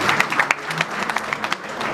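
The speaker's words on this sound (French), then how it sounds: "On applaudit pour le Seigneur." Wedding guests at a religious ceremony clap in a brisk, uneven burst of applause, close and fairly loud throughout.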